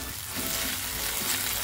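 Ginger garlic paste frying with onions and spices for palak chicken, a steady close sizzle filling the whole short stretch without pause or voices.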